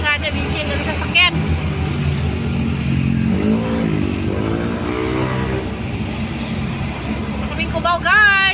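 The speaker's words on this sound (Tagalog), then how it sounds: "Busy mga ano dito kalsada, busy ang sasakyan." Busy road traffic on a city street in Quezon City near C5, with cars and motorcycles passing: a steady loud roar of engines and tyres, passing vehicles swelling and fading, with people talking over it.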